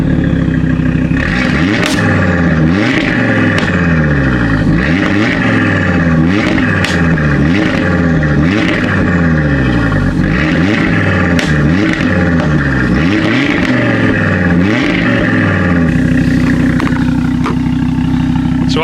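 A 2.5-litre five-cylinder turbocharged Audi RS3 revs repeatedly from the cockpit, loud rising and falling blips in a steady rhythm with crackles at the bottom of each rev, settling toward idle near the end.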